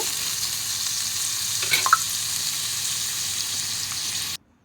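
Sliced onions fry with whole tempering spices in hot oil, a dense even sizzle close by with a brief stir midway before cutting off abruptly.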